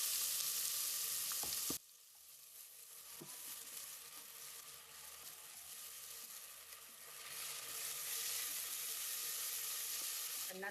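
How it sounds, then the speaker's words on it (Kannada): Chopped onions go into hot oil in a pan on high flame: a bright hiss cuts off sharply after a couple of seconds, then a quieter steady sizzle builds again, faint and continuous. "ಎಣ್ಣೆ ಕಾದಿದೆ. ಮೊದಲಿಗೆ ಕಟ್ ಮಾಡ್ಕೊಂಡಿರೋಂಥ ಈರುಳ್ಳಿ ಸೇರಿಸ್ಕೊಳ್ಳೋಣ."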